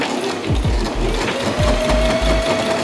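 A sewing machine stitches handmade espadrilles along a thick outline, running loud and close in short bursts with a rhythmic mechanical whir, brief stops and restarts.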